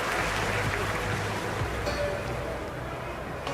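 A crowd of fans at the Aquatic Centre in the London 2012 game keeps up a loud, steady roar of cheering and applause, a continuous wash of noise with faint voices mixed in.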